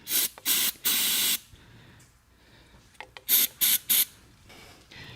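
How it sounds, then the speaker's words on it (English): Aerosol lubricant sprayed onto the cylinders of a 1909 Harley-Davidson prototype motor, loud hissing bursts close by: three long sprays, a quiet pause with small clicks, then three shorter sprays. "So I'm gonna put a little lubricant on the cylinders."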